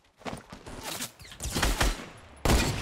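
Rapid gunfire in Fortnite Battle Royale, a dense fusillade of shots in quick bursts, loud and close, ending in a sharp final volley.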